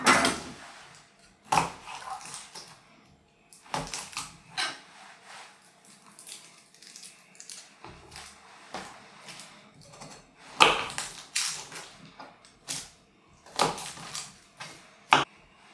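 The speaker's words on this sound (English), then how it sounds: "And now we need to peel and mince the garlic." Garlic being peeled and minced with a knife on a cutting board, with irregular bursts of sharp chopping taps and crisp clatter separated by quiet pauses, close and moderately loud, with no talk.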